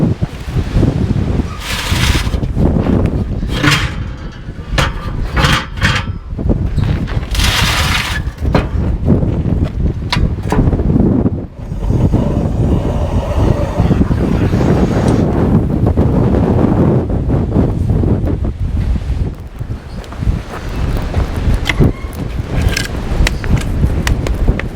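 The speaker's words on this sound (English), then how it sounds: "pretty high winds" High desert wind buffeting a microphone beside a one-person backpacking tent, a loud continuous roar with gusty surges and rumbling low-end blasts throughout, no talking.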